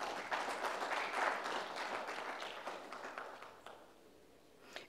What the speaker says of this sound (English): I would like all of you to have a big round of applause for all of us